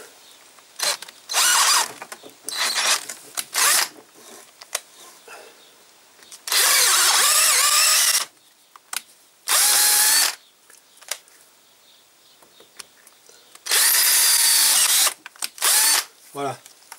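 Power drill boring through a guide hole while cylinders of a 1955 Panhard Dyna Z1 engine are reworked. Several loud bursts of whining drilling, some long and some short, are separated by quieter handling noises.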